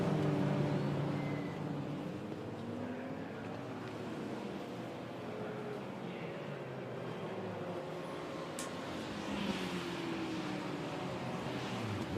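A racing car drives around Druids corner at Brands Hatch during Classic Sports Car Club qualifying, its engine a continuous broad roar that holds steady without a clear pass-by.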